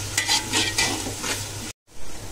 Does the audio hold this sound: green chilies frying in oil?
yes